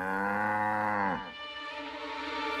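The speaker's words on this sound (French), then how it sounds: "je suis avec une vache." A single long, loud cow moo rises in a drawn-out tone and then drops into a lower, breathy fade, heard alone without talk.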